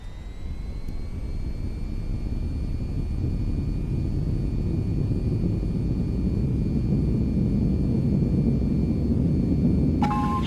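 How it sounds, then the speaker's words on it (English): Jet fighter in VTOL VR throttling up and rolling down the runway for takeoff, a loud, steady engine roar with a whining tone that builds slightly throughout, nearby and continuous. "Now to take off, raise the throttle to full and steer to keep aligned with the runway"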